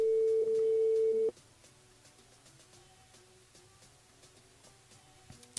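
Outgoing phone call during a live radio show: a steady electronic ring tone for about a second, then a quiet open line with faint clicks and background noise.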